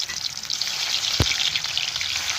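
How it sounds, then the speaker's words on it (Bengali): Small chela fish, coated in turmeric and salt, frying in oil in a wok give a steady close crackling sizzle with one sharp spit or knock partway through. "মাছগুলো ভেজে নিচ্ছি আমি।"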